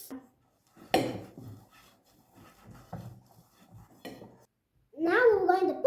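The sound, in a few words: mixing cranberries and dried grapes into dough in a bowl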